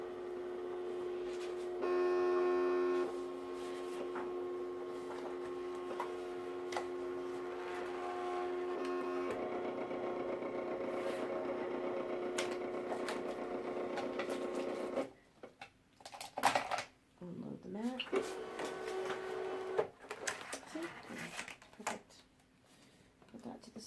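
A Cricut Expression cutting machine runs with a steady motorized hum and whirring for about fifteen seconds, then gives way to intermittent clicks, rustles and handling noises near the end.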